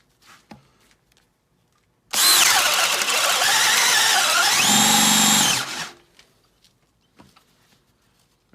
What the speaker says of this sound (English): Now we'll do the Makita XPH10 with a 1-inch self-feeding auger bit